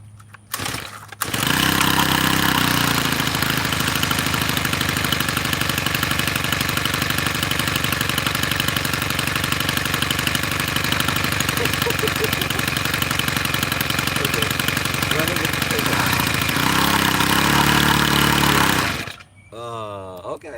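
A tiller's small gas engine starts and settles into a steady idle, loud and close, with a brief pull or rattle before it catches and the engine cutting off near the end.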